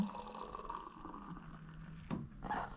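Star San sanitizer runs from a home draft beer tap in a steady, close splashing stream, with a brief sharper gush near the end.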